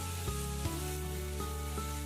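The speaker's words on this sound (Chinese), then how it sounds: "接着把青红尖椒和洋葱块下锅炒一下" Green and red chili peppers and onion chunks stir-fried in a wok with chili bean paste, a steady close sizzle with a few soft clicks of the spatula and no talking.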